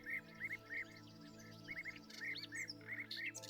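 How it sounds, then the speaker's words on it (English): A melodious warbler sings in Murcia, Spain, in bursts of quick, bright chirping phrases over a low steady hum. "keeps picking up melodious warbler. I've not seen it."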